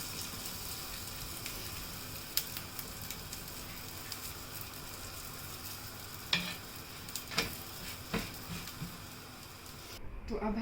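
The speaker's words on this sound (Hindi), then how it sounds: "अपनी रोटी भी हम बटर में थोड़ा सा गरम कर लेंगे। ये देखिए थोड़ा थोड़ा ब्राउन हो रहा है।" Roti warming in butter in a pan for a veg frankie, a faint steady sizzle with scattered soft clicks and scrapes close by.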